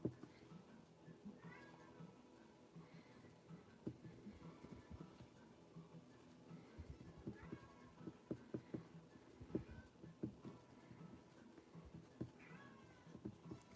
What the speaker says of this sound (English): Do you hear Kitty meowing in the background?